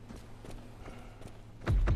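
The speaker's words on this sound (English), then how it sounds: "Yeah. The footsteps." Heavy, evenly spaced footsteps thud in the zombie game Dead Island Riptide, a steady plodding rhythm that grows louder and closer toward the end.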